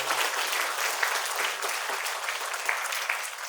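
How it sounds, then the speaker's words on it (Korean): At a memorial ceremony for former president Kim Dae-jung in Incheon, an audience claps in a steady, moderately quiet round of applause that continues evenly throughout. "모두를 위해서 박수 한번 치고 시작하겠습니다."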